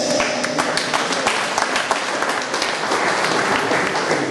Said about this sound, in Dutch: Een applaus voor Katrien Thijs.